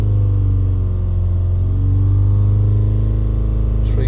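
A Ford Transit van engine with a DPF fault drones steadily at about 3000 revs, a loud, even mechanical hum with no letup throughout.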